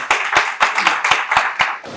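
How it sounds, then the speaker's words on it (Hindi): Clapping from an audience at a book launch ceremony, a handful of distinct, fairly loud hand claps in an uneven rhythm, close by, with no talk over them. "आपकी भरपूर तालियों में लाबन जॉन।"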